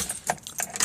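Car keys jangle in the ignition of a 1995 Saturn SC2, several bright metallic rattles close by in quick irregular bursts over a quiet background.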